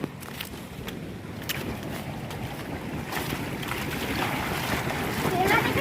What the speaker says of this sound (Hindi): यहाँ देखिए दोस्तों कितना ज़्यादा पानी निकल रहा है